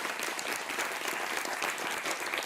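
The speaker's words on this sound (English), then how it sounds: "let's clap for immigrant parents." Audience at a live comedy event clapping for immigrant parents, a steady, even patter of many hands at moderate volume, heard on its own.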